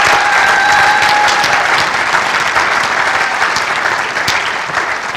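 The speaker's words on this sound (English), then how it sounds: "Ladies and gentlemen, please join me in applauding." Audience at a college national signing day ceremony applauding the signing students, a loud sustained wave of clapping from a large crowd that tapers slightly toward the end.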